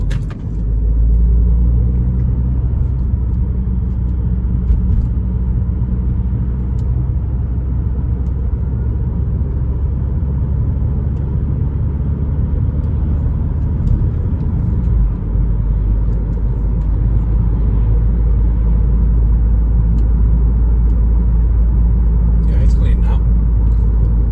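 An Audi interior on the move in London city traffic, with steady low engine rumble and road noise, continuous and fairly loud, with occasional faint knocks.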